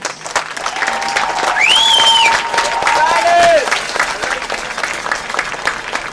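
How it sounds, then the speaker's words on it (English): Crowd applause and cheering for graduating seniors at a high school football game, dense clapping from a stadium crowd with whistles and whoops rising in the middle, heard alongside voices. "Let's have one more round of applause for our graduating seniors."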